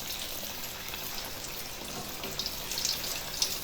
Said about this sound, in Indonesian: Ini siap kita goreng seperti ini pempek tahunya.